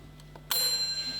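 A single bright bell ding rings out at a debating society event, struck once after a couple of faint taps and left to ring with a clear sustained tone.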